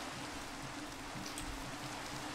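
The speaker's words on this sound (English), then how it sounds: "It just started raining." Rain falls steadily in a video game, a constant dense hiss of drops with no other sounds.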